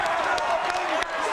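A basketball game crowd cheers and claps in a continuous, fairly loud roar that fills the gym, with a voice talking over it.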